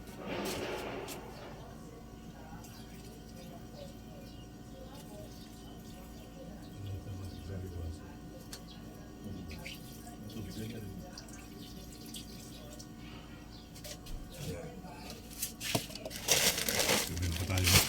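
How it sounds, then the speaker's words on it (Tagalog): Water is poured onto potted plants after repotting, with soft trickling, dripping and crinkling of soil and leaves. It stays fairly quiet throughout, with a few louder splashes near the end. "so ngayon, yung tubig, ididilig natin sa kanya."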